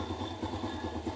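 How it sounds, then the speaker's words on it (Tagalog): A motorcycle engine idling after long disuse, a low rhythmic putter with steady mechanical clatter, close and continuous through a short stretch with no talking. "Paandarin nyo lang yung makina."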